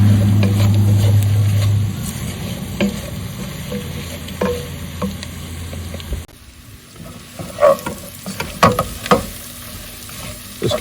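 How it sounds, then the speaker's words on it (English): Sausages and curry powder fry in a pan with a steady, close sizzle that drops away halfway, followed by quieter scraping and clinking from stirring. "Want to fry up the spices, just enhance the flavours, bring them out a bit more."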